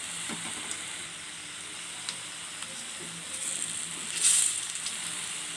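Onion, ajwain and drumstick-leaf pakodas fry in hot oil over high flame, giving a steady soft sizzle with occasional crackles and a brief louder hiss near the end, close and unbroken by talk.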